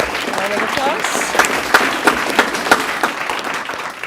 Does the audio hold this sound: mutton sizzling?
no